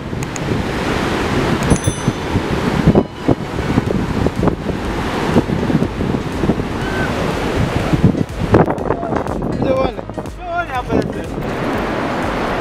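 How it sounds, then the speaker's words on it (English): Ocean waves and wind at the shore, loud gusts buffeting the microphone over continuous surf wash, with people talking intermittently over it. "Waves."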